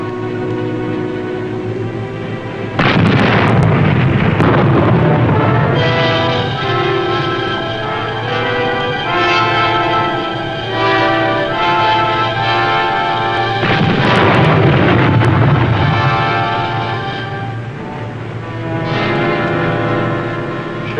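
USS Bowfin submarine deck gun crews firing on an enemy ship, heavy booming blasts and rumbling reports repeating under a dramatic orchestral score, no voices.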